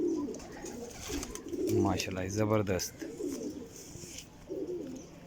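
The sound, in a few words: pigeon cooing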